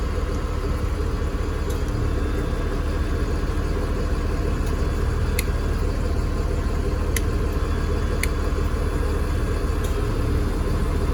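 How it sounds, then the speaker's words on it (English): A car engine idles with the AC compressor running, a loud, dense, steady mechanical drone with a few faint ticks, heard close up with no talk. "I can hear the motor slow down, so the compressor, the AC compressor, is running"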